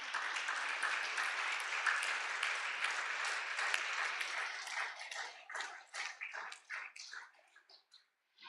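Sustained audience applause at a live yoga festival wisdom talk, dense and steady clapping filling the space, then thinning into scattered claps before stopping; no talking over it.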